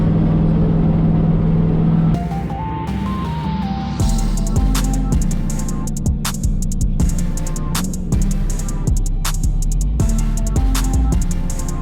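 A turbocharged 500+ horsepower Ford Mustang engine, running 10 pounds of boost, drones steadily while driving, with shifting pitch as it accelerates and eases off, loud and close from inside the vehicle.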